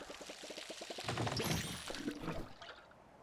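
Water pours steadily onto a tree in the farming video game Palia, a continuous splashing stream with a faint rhythmic game tone at the start, no voices.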